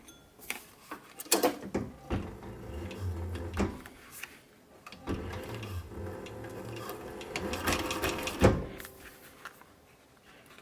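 A sewing machine stitching a leather mitten runs in a few bursts of rapid mechanical whirring and clacking, separated by short pauses and handling knocks, fairly close, with no talking.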